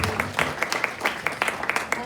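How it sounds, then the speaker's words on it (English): Audience applause at a Women in Neuroscience event, a brief patter of claps with a few sharper individual hits rising above the spread of hands. "Another round of applause"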